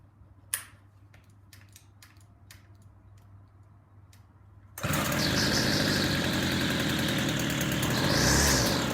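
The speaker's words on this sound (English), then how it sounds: "You're a weed whacker. You're supposed to idle." A WeedEater FX26C string trimmer engine sits quiet with ticking for several seconds, then starts up into a loud, steady buzzing idle that rises slightly near the end.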